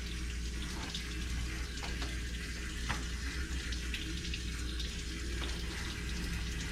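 Clothes hand-washed with soap in a sink under a steady stream of running tap water, a continuous close splashing rush with no talking.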